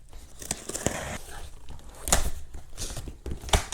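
Box cutter slicing through a sturdy cardboard shipping box holding a Corvette spoiler, heard as short close scraping and crinkling strokes with a few sharp tearing bursts, no speech.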